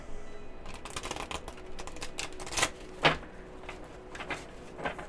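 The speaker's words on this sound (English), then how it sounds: "I want to shuffle." Tarot cards riffle and slap together in quick flurries, with a few sharper snaps and soft handling sounds in between, fairly close and without voices.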